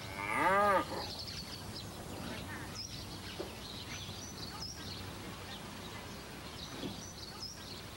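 A cow lets out a single short moo at the start, followed by a quieter farmyard background with faint bird calls.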